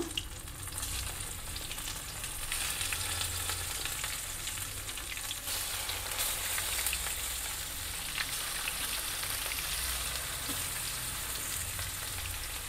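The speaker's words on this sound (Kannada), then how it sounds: "ಎಣ್ಣೆ ಬಿಸಿ ಆಯ್ತು. ಈಗ ಒಂದೊಂದೇ ಬೆಂಡೆಕಾಯಿನ ಹೀಗೆ ಹಾಕ್ತಾಯಿದ್ದೀನಿ." Okra pieces dropped one by one into hot oil on a medium stove set up a loud, steady, dense sizzle of frying that holds evenly throughout, with no voices.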